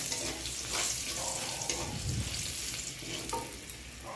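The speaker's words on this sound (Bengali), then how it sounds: "এবার জিরের গুঁড়ো দিলাম, ধনের গুঁড়ো, মশলাটা একটু কষিয়ে নেব।" Cumin and coriander powder frying in oil in a pan, a dense close sizzle with soft scraping strokes of a spoon running throughout.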